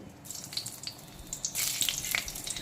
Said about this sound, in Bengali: সর্ষের তেলটা কিন্তু এখন বেশ ভালো মতো গরম হয়ে গেছে। এখন আমি প্রথমে দিয়ে দেব শুকনো লঙ্কা ফোড়ন